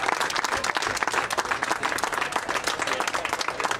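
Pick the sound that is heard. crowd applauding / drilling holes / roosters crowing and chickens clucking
crowd applauding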